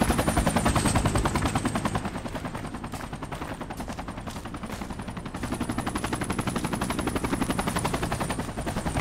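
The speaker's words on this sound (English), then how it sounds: "We got a chopper coming in." Helicopter flying in during a Project Reality military shooter match, a loud continuous rotor chop pulsing steadily throughout, mixed with heavy gunfire and little speech.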